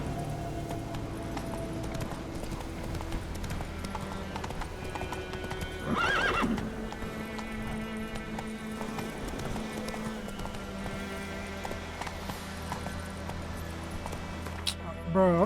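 Hooves clip-clop in a steady galloping rhythm from a horse in The Witcher 3, with a loud whinny partway through and game music underneath.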